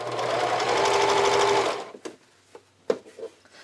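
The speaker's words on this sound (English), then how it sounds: "using a multi-step zigzag stitch, we're going to top stitch the band in place" A sewing machine runs a continuous multi-step zigzag stitch for under two seconds, top stitching a bralette's elastic band in place, then stops; a few soft handling clicks and taps follow.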